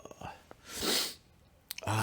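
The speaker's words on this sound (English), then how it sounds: "I feel a sneeze coming" A single breathy sneeze bursts out close and fairly soft, preceded by a few quick inhales and followed by a voice starting to speak.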